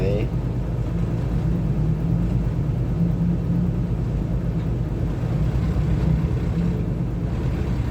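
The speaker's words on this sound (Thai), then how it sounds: "รถไถมาแล้ว" Tractor engine arriving at a field, a low steady rumbling drone that stays loud throughout, with people talking over it.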